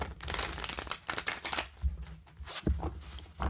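Oracle cards being shuffled by hand, close and quiet, a continuous run of papery riffles and slaps with a couple of sharper snaps.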